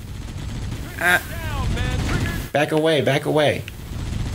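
Heavy gunfire from a big weapon in Halo Anniversary rattles in bursts with booming impacts, mixed with players talking over it.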